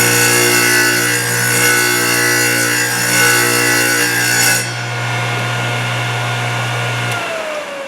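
A Thorvie AV-40 sharpening machine hums and grinds steadily against a hedge trimmer blade, a strong tonal whine with gritty abrasion that cuts out partway, leaving the motor winding down.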